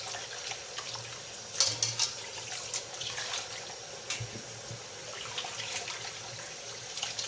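Running tap water pours steadily into a sink while raw chitterlings are rinsed by hand, with splashes and sloshing over a constant close stream, no talking.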